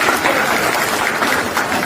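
An audience applauds in honour of Dr. Bharati Tai Pawar, a former Union minister, at a felicitation ceremony, producing a dense, steady wash of clapping that holds at an even, loud level throughout.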